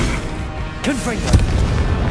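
A Confringo fire spell blasting in Hogwarts Legacy, one short booming burst with a crackling tail over steady game ambience, with a voice talking around it.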